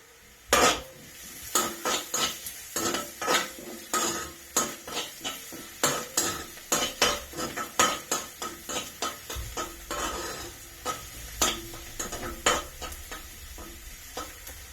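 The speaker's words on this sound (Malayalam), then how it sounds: "ഉള്ളി നന്നായിട്ട് വഴണ്ട് വരണം." Onions sautéing in a pan, sharp knocks and scrapes from a stirring utensil in a steady rhythm over a soft background sizzle, close up with no talking.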